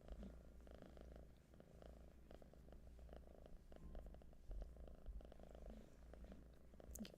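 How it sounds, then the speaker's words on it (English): A kitten purring gently and steadily, a soft continuous rumbling purr heard close and quiet with no voices. "let the kitten purrs gently bring you back"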